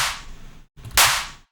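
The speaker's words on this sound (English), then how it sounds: "And then another VR clap." Two sharp electronic clap hits, the second brighter and louder, each with a noisy decaying tail, dry and close with no voices.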